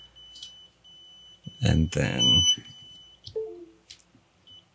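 Drone flight controller beeper sounding from low USB voltage: a steady thin high tone running under a man's speech, fading in and out across the clip.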